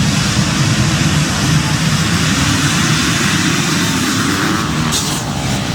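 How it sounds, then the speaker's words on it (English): A wave of off-road motocross bikes starting their engines together at the start gate at Southwick, a dense, steady, loud roar of many engines held throughout with no voices. "This is the engine start."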